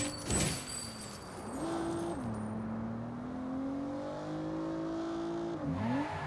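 A car drifts in the Saints Row reboot, its engine revving and shifting pitch over a long sustained tire squeal, near and loud, with a sharp burst at the start and another swell near the end.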